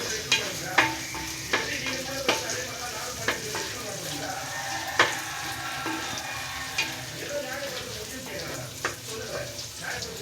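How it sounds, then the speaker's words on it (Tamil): Onion and green chillies sautéing in a pan with curry leaves, a steady close sizzle broken by repeated sharp scraping and stirring clicks from a spoon against the pan. "நம்ம போட்ட வெங்காயம் பச்சை மிளகாயெல்லாம் நல்லா ஃப்ரை ஆயிடுச்சு."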